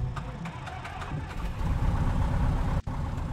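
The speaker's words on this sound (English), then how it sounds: "let's start the engine and go flying" A light aircraft's propeller engine running after startup in a flight simulator game, a steady droning rumble with a faint pulsing beat, fairly loud and continuous, with a brief dropout near the end.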